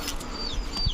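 Pigeons, including female high-flyer and racer birds, flap their wings in short close bursts over a faint ambient background, with no talking.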